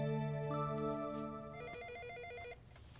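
Telephone call being placed. A tone sequence plays, then a repeating electronic ringback pulse follows, fairly faint and with no voices.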